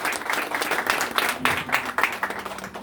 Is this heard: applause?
yes